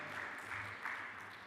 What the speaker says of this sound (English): biggest round of applause so far